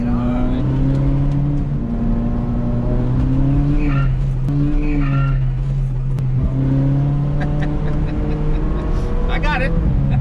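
A Ferrari 458 engine drones steadily from inside the car while driving, with pitch rising and falling through gear changes, loud and continuous as occupants talk over it.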